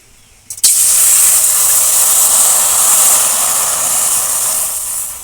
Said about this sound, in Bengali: কড়াই গরম হয়ে গেছিল জল যখন আস্তে আস্তে পড়ছিল তখন জল ড্যান্স করছিল